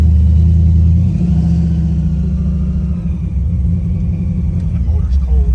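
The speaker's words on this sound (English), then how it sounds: "Burn out." A car engine rumbles loud and close, holding a steady low idle before revving harder partway through, with a voice talking over it.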